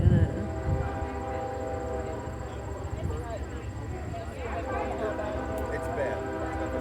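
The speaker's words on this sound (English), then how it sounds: "We're gonna wait till that train passes." At a family reunion in Fostoria, a passing train sounds a long, steady horn over a continuous low rumble. The noise is loud and close, and people talk underneath it.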